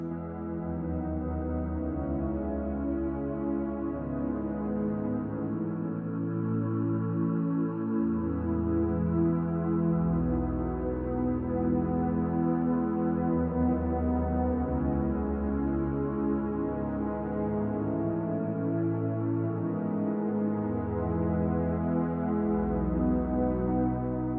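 Soft piano notes play over sustained, swelling synth pads, a gentle and steady chord bed continuing throughout.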